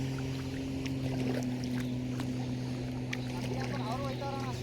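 A boat moves across open water with a steady low engine drone and a faint wash of wind and water, constant and unbroken throughout.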